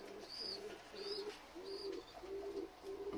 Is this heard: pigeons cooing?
yes